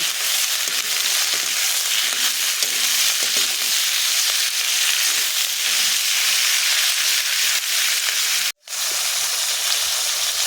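Jackfruit frying in a pan with salt, giving a loud, steady sizzle throughout while it is stirred, broken by a brief cut near the end.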